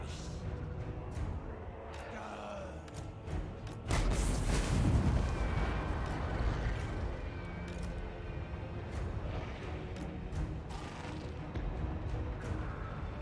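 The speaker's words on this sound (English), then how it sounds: "Oh yeah, there's those Shade Red Gunners going to town. I love the way the Shade Red Gunners shoot." Shade Red Gunners firing in the Total War: Warhammer video game, a dense battle din of repeated cracks and thumps with a heavy booming burst around the middle, continuous and loud throughout.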